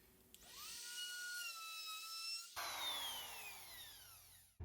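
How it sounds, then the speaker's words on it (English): A router fitted with a 1/2 inch round-over bit rounds the sharp edges of wood pieces for a Duplo LEGO table. Its close, steady high-pitched whine runs for about four seconds, shifting tone midway, with no talking. "finally hit all the sharp edges with a 1/2 inch round over bit"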